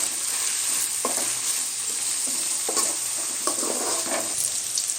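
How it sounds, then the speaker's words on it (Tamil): Sliced onions and slit green chillies sautéing in a pan for egg rice, a constant close sizzle broken by several distinct scraping strokes of a spatula. "அதையும் சேர்த்து நம்ம வதக்கி விடலாம்"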